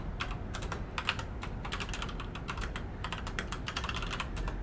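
Rapid keystrokes clatter on a computer keyboard in quick, uneven bursts with brief pauses, close and fairly quiet in a calm room.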